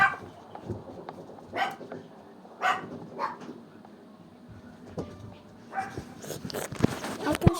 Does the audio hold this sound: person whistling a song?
no